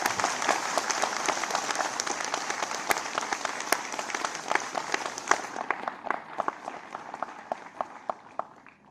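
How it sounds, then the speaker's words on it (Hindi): A seated crowd at an appointment-letter ceremony in Dehradun applauds warmly; sustained clapping with crisp individual claps standing out, thinning and tapering toward the end. "तालियां बरसती रहनी चाहिए।"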